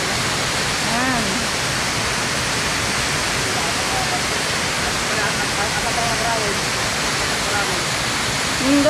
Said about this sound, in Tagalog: Ayan po ang PINSAL falls.